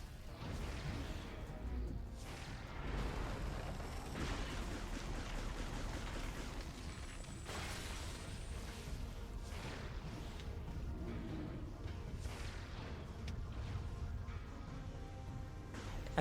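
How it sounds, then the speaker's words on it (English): Missiles fire and explode repeatedly in Metroid Prime 3, with a series of whooshing launches and crashing bursts spread across a long stretch of game action and no voices. "Where are these missiles going?"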